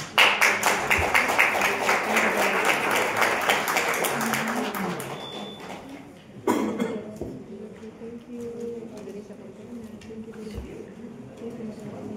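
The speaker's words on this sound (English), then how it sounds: "I would like to applaud all our panelists because that was a very fantastic, diverse discussion." Hands clap loudly and densely for the panelists at a UNESCO international forum, lasting about five seconds before thinning out, followed by scattered coughs, taps and murmured talk in the room.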